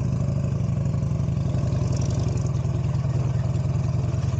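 A Buell motorcycle engine runs close by with a fast, even pulsing thrum, held steady and loud for a few seconds with no voices over it.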